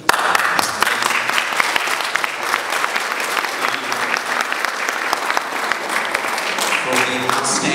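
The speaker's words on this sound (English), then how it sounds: "the applause you just made" Sustained audience applause at a Boston event for the Italian Ambassador to the United States, a full, continuous roar of many hands clapping with a faint murmur of voices beneath.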